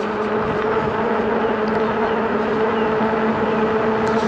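Touroll S1 750W e-bike with 20-inch by 4-inch fat tyres riding on throttle alone, a steady whining motor hum with constant tones over rolling road and wind noise, continuous and close throughout.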